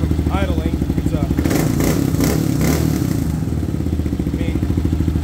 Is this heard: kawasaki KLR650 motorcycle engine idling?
yes